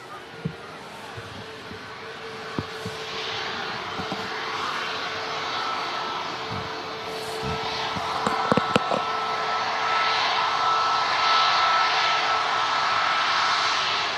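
Jet airliner at Manchester Airport, a steady broad engine roar that swells slightly louder toward the end, heard at a distance with a few faint clicks and knocks nearby.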